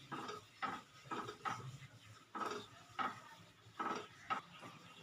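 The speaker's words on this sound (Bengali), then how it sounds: "ভালো করে নাড়াচাড়া করে নিলাম" A spoon scraping and knocking around a pot of prawn pulao, eight or so distinct clattering strokes in an uneven rhythm, close and fairly quiet.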